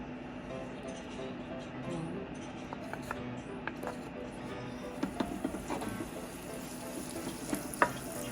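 Butter sizzles softly in a pan while tofu sisig is being cooked, with a steady low frying hiss and a few light clicks and taps of utensils, faint and close.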